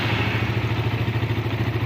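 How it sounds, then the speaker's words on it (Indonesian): A Suzuki Satria motorcycle engine idles steadily with a low, throbbing rumble and a faint rhythmic clatter, loud and close, no voices. "ini motor sudah bunyi ya"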